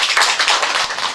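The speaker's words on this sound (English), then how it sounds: "let's give her a round of applause" Classroom applause after a student's lesson, a brief burst of many hands clapping together, close, loud and continuous with no voices over it.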